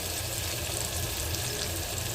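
Dry spices, chili powder and turmeric, sizzle in hot oil for a green cowpea curry, giving a dense, steady hiss that stays loud and even from start to finish.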